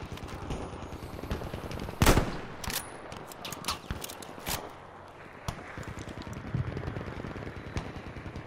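Gunfire in the video game Battlefield 5, with sharp single shots and short bursts cracking irregularly, one loud blast standing out near the start, over a busy battlefield din.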